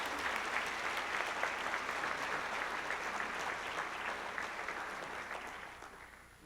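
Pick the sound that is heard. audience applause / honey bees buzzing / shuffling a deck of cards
audience applause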